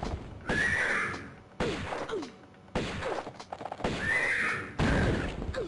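Horses neigh and whinny in Tomb Raider 1 as one attacks, shrill loud squeals repeating in four bursts with thumping hoof impacts and gameplay noise between them.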